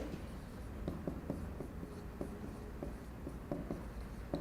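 Chalk or marker writing on a classroom board during a logic lesson, a steady run of short scratchy strokes and taps in an irregular rhythm, close and fairly quiet, with no talk over it.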